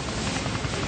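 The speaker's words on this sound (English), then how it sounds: "Moore swims over to Ray and the crew as the helicopter hovers overhead." A rescue helicopter hovers overhead at sea, its rotor a constant loud, dense roar with a fast pulsing beat, close and steady throughout.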